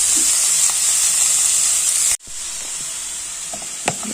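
Ivy gourd stir-fry with salt and chili flakes in a pan, a loud continuous sizzle that cuts out for a moment, then resumes with a few light spatula taps and scrapes.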